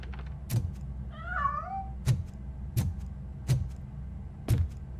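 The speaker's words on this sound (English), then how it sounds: "The cat is fine." A cat meows once in a short, wavering call amid repeated sharp clicks and thuds in the video game RoboCop: Rogue City, over a low steady background rumble.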